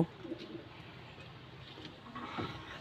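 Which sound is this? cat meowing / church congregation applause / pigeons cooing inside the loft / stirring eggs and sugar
pigeons cooing inside the loft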